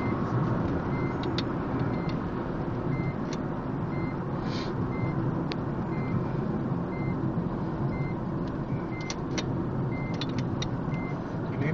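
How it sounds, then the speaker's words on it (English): A car driven with Mobidrive hand controls accelerates, a steady broadband engine and road rumble from inside the cabin, with a faint regular beeping repeating in the background throughout. "To accelerate in a fast manner, just press down, and there your car accelerates."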